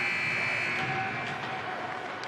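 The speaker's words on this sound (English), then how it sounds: "there's the buzzer" A game buzzer in a youth bantam hockey arena, Prior Lake Navy at Minnetonka, sounds as a long, steady electronic tone lasting over two seconds, heard from a distance amid the room's hum.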